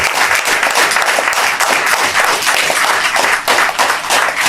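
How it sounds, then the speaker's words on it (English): A crowd at a press conference claps for the president in a loud, continuous wash of hand claps with no talk over it. "Please let us give a resounding round of applause to our president."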